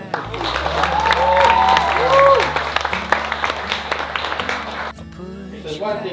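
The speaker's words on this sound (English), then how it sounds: "We'll give a round of applause for" Wedding guests applaud the newlyweds at a reception on a farm in Tasmania, steady clapping with some whoops and voices over a low music bed, before the clapping fades out near the end.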